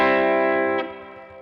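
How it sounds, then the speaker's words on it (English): An electric guitar on the bridge pickup runs through the X-Space spring reverb pedal in Amplitube 5. A loud, sustained chord rings out alone, with a second pick attack midway and a springy reverb tail as it fades. "You know that quack that you get with the spring reverb? That sort of bounce of the springs?"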